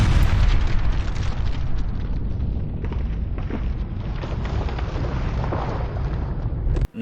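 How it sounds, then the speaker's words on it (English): A dynamite detonation in Age of Empires 3 sets off a long, dense rumble of booming blasts that rolls on for several seconds before cutting off abruptly, with a brief final burst at the end. "so he's able to detonate the dynamite."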